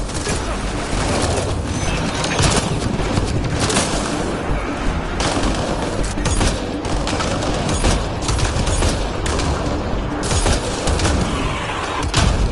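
A firefight with pirates in the video game Mass Effect Andromeda: dense, loud, continuous gunfire with rapid overlapping shots and no real pauses.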